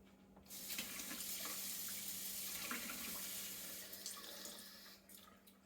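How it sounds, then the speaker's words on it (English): Tap water runs steadily into a pot of thick Louisiana gumbo, a constant splashing hiss starting abruptly and easing off near the end, close and fairly loud with no talk. "So now I'm going to add a little bit of water to it"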